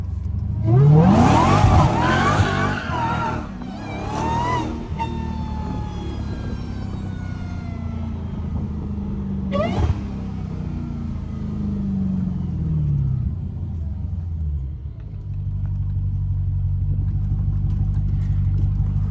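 A Dodge Hellcat SRT drifts through corners, its engine roaring and revving loudly up close with squealing, skidding tires, the roar easing off toward the end into a steady low rumble.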